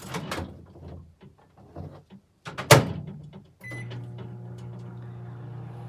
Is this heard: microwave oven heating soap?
yes